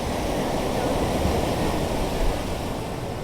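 Steady roar of Arabian Sea waves washing onto Devghali beach in Ratnagiri, continuous and fairly loud with wind noise and no clear voices.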